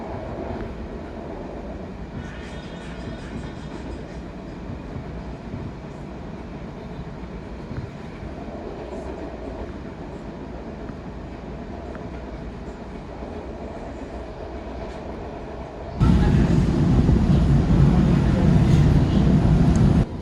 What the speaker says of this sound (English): it allows for a smoother flow of trains through the junction